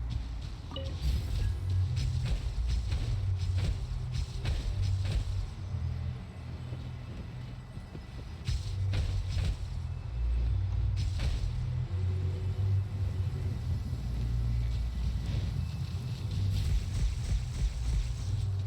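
Thunder and rain during a storm in the video game Genshin Impact: a loud, continuous low rumble with a broad hiss of rain layered over it, holding steady throughout with only a brief dip midway and no talking.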